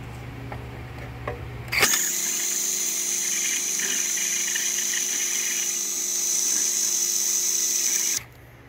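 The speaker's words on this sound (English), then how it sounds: "I'd just be grinding metal instead of grinding rubber" Steady, high-pitched whine of an angle grinder biting into metal during work on a red Craftsman riding mower, running continuously for about six seconds at close range, then cutting off abruptly.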